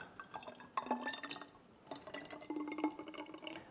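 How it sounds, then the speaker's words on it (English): Salad dressing is poured from a container into a glass bottle, giving close, quiet trickling and glugging with small clinks of glass, in two bursts separated by a short pause. "And then I will pour it into my beautiful bottle."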